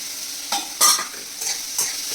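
Soaked wheat kurdai is stirred in a sizzling pan, with a few sharp scraping strokes over a soft frying hiss, close and fairly loud, with no talking.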